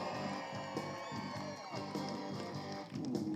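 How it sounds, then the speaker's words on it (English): A lumberjack show crowd roars and whoops for the blue team, a dense, sustained wall of cheering and shouts heard from within the audience. "I want to have a big cheer for the blue"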